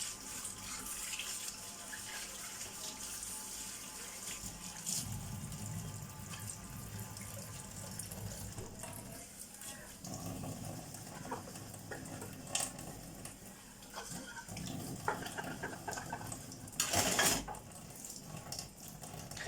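Running tap water pours steadily into a kitchen sink while dishes are scrubbed with a stainless steel wool scourer, soft scraping and occasional clinks of pans and cutlery close by, with a brief louder splash near the end.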